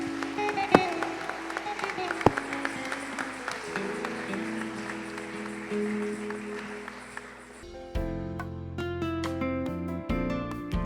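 Church congregation clapping as an offering of applause during a Sunday service, a dense sustained patter over organ-like music, then the clapping fades as steady music continues alone.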